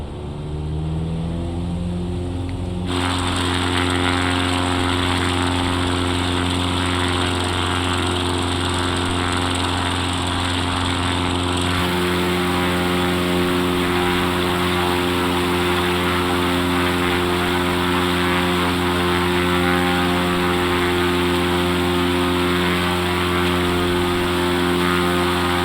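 An X Cub light propeller aircraft cruises along the Monterey Bay shoreline, its engine droning steadily and loudly from up close in the cabin, with a constant buzzing hum throughout and no talking.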